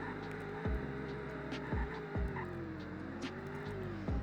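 A V8 car accelerates hard at high speed, its engine note climbing steadily and dropping sharply at each gear change, loud and close throughout.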